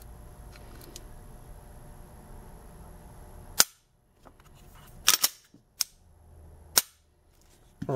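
Glock 17 Gen 5 MOS pistol fitted with an Apex action enhancement kit firing Winchester 115-grain rounds, with several sharp, loud shots spaced irregularly and a short burst of quick reports amid quiet stretches.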